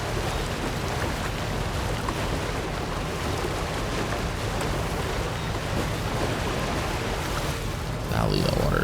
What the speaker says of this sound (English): Golly, the water's so loud.